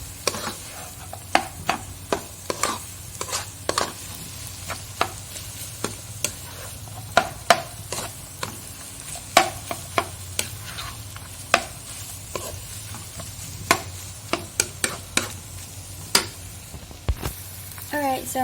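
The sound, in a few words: stirring chili into food in a frying pan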